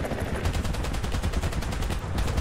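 Anti-aircraft guns at an airfield in the War Thunder video game fire a rapid, steady stream of shots, loud and continuous from start to finish, and no one speaks over it.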